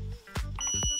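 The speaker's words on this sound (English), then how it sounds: "it just starts beeping at me" Short electronic beeps sound in quick succession, sharp and close, with a faint steady tone underneath.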